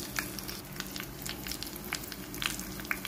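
Hot tempering of red chilies and asafoetida sizzling into toor dal for Hyderabadi khatti dal, a quiet crackling sizzle with scattered sharp pops, fairly faint and without speech.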